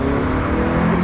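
Toyota Camry accelerating from a stop onto a bumpy road, a steady low engine drone building under continuous cabin and road noise throughout.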